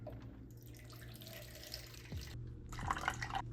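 Distilled water pours into a container for cold-process soap making, a steady close trickle and splash running throughout, with a brief drip-like clink near the end.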